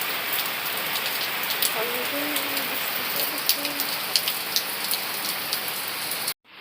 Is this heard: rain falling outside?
yes